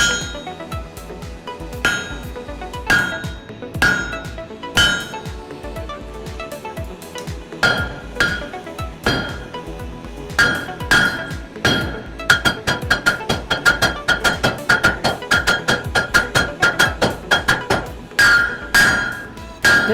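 Hammer blows ring on hot metal while a Viking-style anvil is being forged. The strikes are close and loud, irregular and spaced at first, then settle into a fast, steady run of ringing clangs.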